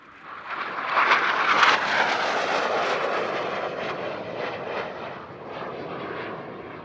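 A North American F-86 Sabre jet at an airshow near Paris sweeps past with a loud, rushing jet roar that swells quickly, peaks early, then fades slowly as it moves away.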